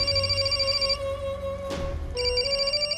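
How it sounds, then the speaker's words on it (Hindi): A phone ringtone plays loudly and steadily, a repeating electronic melody with a brief interruption partway through. "फोन है।"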